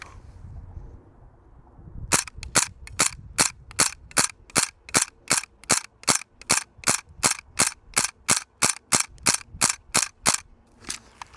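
Roughly twenty sharp, evenly spaced gas blowback shots from a King Arms M1 Carbine airsoft rifle, each a loud crisp crack with a short tail, fired in a steady semi-auto rhythm after two seconds of quiet room tone.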